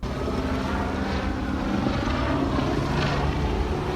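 Helicopter over New York flying erratically shortly before a crash, a loud, steady broadband rotor and engine roar that fills the clip without pause and with no voices.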